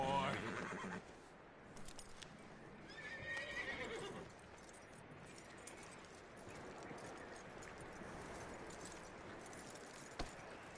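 A horse in the video game Red Dead Redemption 2 lets out a loud whinny at the start, followed by softer snorting and hoof clops over a steady background hum.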